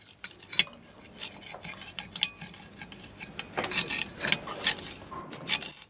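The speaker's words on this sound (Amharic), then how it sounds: "ናንጂን ቀስ ብለህ ቁረጥ፣ ሳህኑን ልትሰብረው ነው።" A knife scrapes and rasps against a plate while cutting food, with a series of uneven gritty strokes that are close and fairly quiet, and no voices.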